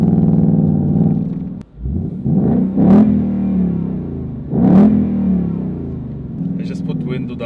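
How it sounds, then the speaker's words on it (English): A Ford Mustang GT V8 exhaust rumbles in second gear, with a dip, then two sharp revving surges climbing and falling, loud and close from inside the car with the window down. "Listen to this, guys. Second gear. Epic sound."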